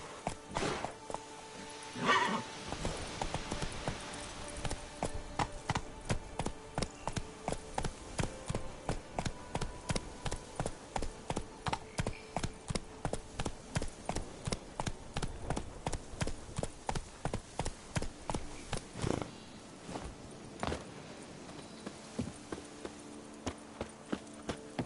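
Horse hooves clip-clop steadily in a PS4 video game, a fast, even rhythm of hoofbeats running almost the whole time at a moderate level.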